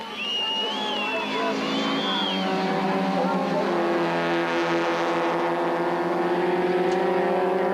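Touring cars, BMW and Nissan among them, race on the 1998 Welkom circuit, their engines droning as a sustained rising whine of racing motors under continuous commentary, loud and steady throughout.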